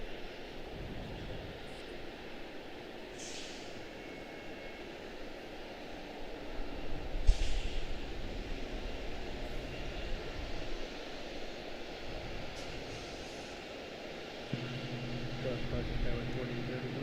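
A 25-year-old Boeing 737-8 built in August 2000 and bound for Chicago O'Hare rumbles at Charlotte Douglas airport as a faint, distant engine wash that swells briefly before settling back to a low hiss.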